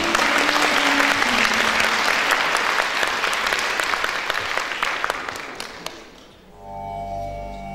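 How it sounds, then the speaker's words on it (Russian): An audience in Saint Petersburg applauds after a performance by the Anugama Indian dance studio on stage, dense loud clapping that thins into scattered claps and fades out, followed by music beginning softly. "Ваши аплодисменты!"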